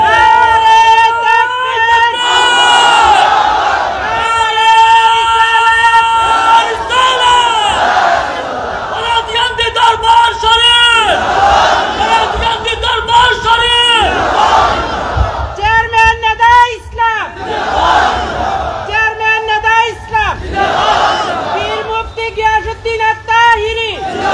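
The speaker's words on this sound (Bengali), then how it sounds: "এখন একটা স্লোগান দেন" A huge crowd of devotees at an outdoor religious gathering at a Sufi shrine chants a religious slogan in loud unison. Repeated rhythmic call-and-response shouts rise and fall over about two dozen seconds, with a leader's voice between the chants.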